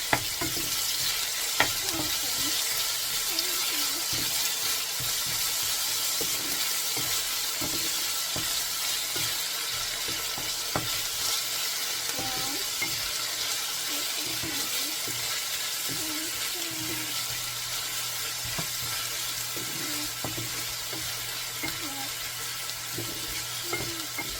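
Garlic and other ingredients being stirred in a hot oiled pan for pumpkin and shrimp, a steady sizzle with scattered scraping and clinking of the utensil, close and continuous without speech.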